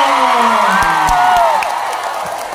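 A live crowd cheers and whoops with a steady roar of applause, loud and sustained, with rising shouted voices over the clapping wash.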